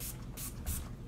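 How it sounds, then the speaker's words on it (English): A hair shine spray hisses onto curls in three short, quiet pumps spaced evenly apart, close by. "to make it shiny, I just spray this on there"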